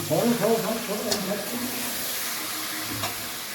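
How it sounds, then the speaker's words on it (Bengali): Chicken being stirred and sautéed in a pan in a home kitchen, with a steady sizzling hiss and scraping stir strokes that are busier at first, then settle into continuous frying. "এখন চিকেন কষানোর পালা"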